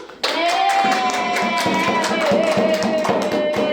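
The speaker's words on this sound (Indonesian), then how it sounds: "Tepuk tangan dulu." Students in a classroom clap together in a sustained burst of applause, steady and fairly loud for several seconds, with a faint voice and some tapping mixed in.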